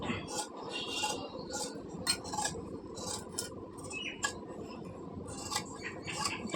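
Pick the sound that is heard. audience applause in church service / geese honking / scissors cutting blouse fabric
scissors cutting blouse fabric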